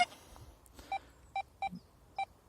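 XP Deus 2 metal detector sounding short electronic beeps while testing over a quarter gold coin, about five evenly spaced tones, faint and close, with no talk.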